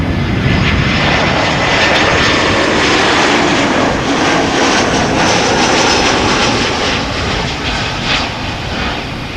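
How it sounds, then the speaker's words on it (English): An EasyJet Airbus A319 airliner arrives from Geneva and lands with a loud, sustained engine roar and rushing noise. It stays close and steady throughout, with no voices. "Meanwhile, EasyJet A319 arriving from Geneva. Next to land."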